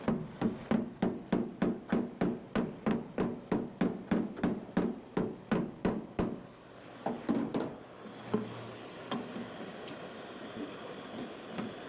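A hammer strikes in a fast, even run of sharp, loud blows for about six seconds, then a few scattered, weaker knocks follow amid faint background noise.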